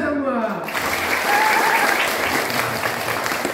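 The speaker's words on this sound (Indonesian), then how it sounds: "Tepuk tangan untuk kita semua." An audience claps in a sustained burst of applause at a lively religious gathering, the clapping steady and loud throughout, with a voice briefly audible at the start.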